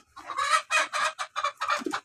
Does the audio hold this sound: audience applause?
no